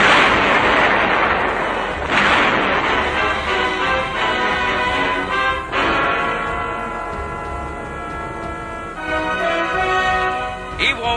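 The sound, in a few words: high explosives destroying Japanese cave fortresses on Iwo Jima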